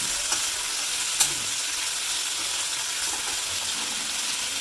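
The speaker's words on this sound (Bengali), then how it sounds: "এরপরে দিয়ে দিবেন রাজমা, দিয়ে একটু ভালো করে নাড়াচাড়া করে কিছুক্ষণ কষিয়ে নেবেন" Kidney beans stir-frying in a pan give a steady, close sizzle with a few faint scraping knocks from stirring, no voices.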